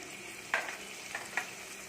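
Onions and curry leaves frying in oil for a mutton paya gravy, a steady moderate sizzle with a few small pops and a light stir, no talking.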